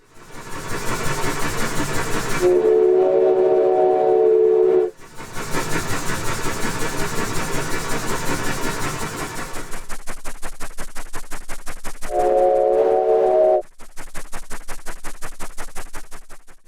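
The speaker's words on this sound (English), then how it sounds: "If we disable the convolution filter for the steam engine, it really doesn't sound like itself anymore" A dry, synthetic simulated steam engine with its convolution reverb filter disabled chuffs in rapid, even pulses, broken by two steady whistle blasts, sounding flat and close with no echo.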